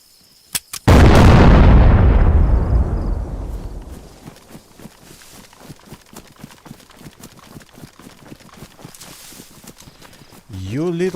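Explosive charge detonating in the DayZ survival game on the Livonia map: a couple of sharp clicks, then a huge booming blast that rolls and decays over several seconds into scattered debris crackles, followed by a brief closing sound.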